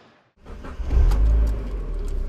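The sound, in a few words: 1.8 litre car engine starting up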